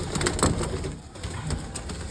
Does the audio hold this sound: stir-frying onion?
no